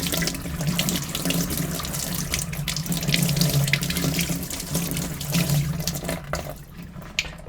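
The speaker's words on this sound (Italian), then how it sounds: "A questo punto le lavo, meglio con acqua non tanto fredda" Lukewarm tap water runs steadily into a sink while photographic negatives are rinsed, a continuous close splashing hiss that dips slightly near the end.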